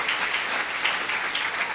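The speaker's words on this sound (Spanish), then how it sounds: "Démosle un fuerte aplauso al Señor." A church congregation gives the Lord loud applause, a dense continuous wash of many hands clapping together, steady throughout, with no voices standing out.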